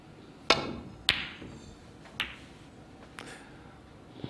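Snooker balls at the 2020 World Championship knock sharply into one another and drop into pockets, with four or five crisp clacks spaced across a few seconds against a quiet arena hush.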